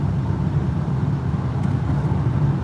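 Steady road traffic passing by, a continuous low rumbling wash of vehicle noise with no talk.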